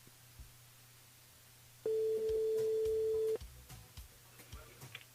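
A single steady telephone tone sounds for about a second and a half while a call is placed to a radio listener, set over low studio background noise with faint clicks and movement.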